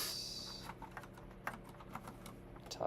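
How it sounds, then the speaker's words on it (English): Computer keyboard typing during a coding session, a steady run of soft, close key clicks with irregular rhythm and a few sharper taps, no one speaking. "Can't type on this keyboard right now."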